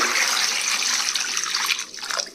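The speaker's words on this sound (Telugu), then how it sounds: "శుభ్రంగా ఈ విధంగా కడిగేసుకోవాలి" Indian gooseberries (amla) are washed in water, a close steady rush and splash of running water with sloshing that eases slightly near the end.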